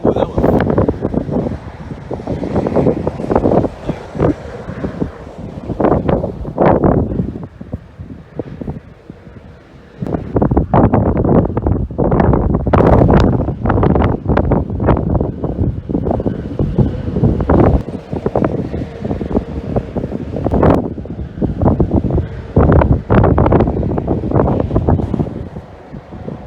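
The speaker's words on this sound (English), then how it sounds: "Just to give you an idea how strong the wind is right here." Strong monsoon storm wind blows dust around, roaring in gusty, buffeting bursts across the microphone, loud and close throughout, with a brief lull near the middle before the blasts resume.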